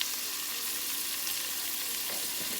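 Garlic frying in hot grease as the base for broccoli cheese soup, a continuous close hiss of sizzling with faint stirring scrapes toward the end and no talking.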